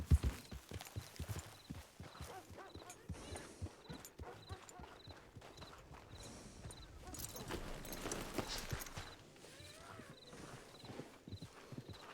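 Horse hooves clip-clop steadily on a hard surface in the video game Red Dead Redemption 2, with faint voices and light ambient background throughout.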